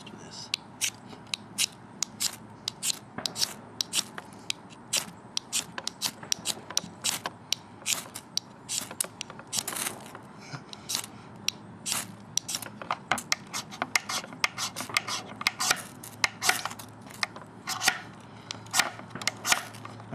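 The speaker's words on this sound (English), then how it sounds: "I'm trying to shave some shavings off of this in there to help" Mischmetal fire starter rod scraped repeatedly, a steady stream of quick, dry rasping strokes close by, running continuously and alone for about twenty seconds.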